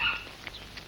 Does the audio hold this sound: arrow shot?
no